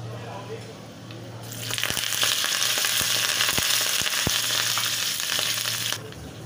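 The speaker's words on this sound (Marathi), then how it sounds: "डाळ तळली गेली आहे बघा" Urad dal with curry leaves hitting hot oil, a loud broadband sizzle that bursts in suddenly and holds steady with small crackles and clinks for several seconds, then cuts off, with a low background hum.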